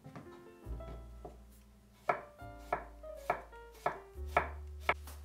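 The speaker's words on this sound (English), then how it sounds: "Cut all vegetables into chunks. 1 carrot, 1 zucchini," A carrot and a zucchini are chopped into chunks with a knife on a cutting board, giving a series of crisp, evenly spaced thuds with short scraping slides between them, close and clear with no talking.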